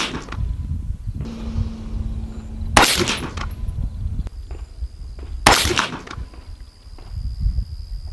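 Rifle shots from a 6.5 Creedmoor firing Hornady ammunition at a range, two loud sharp cracks several seconds apart over steady outdoor background noise.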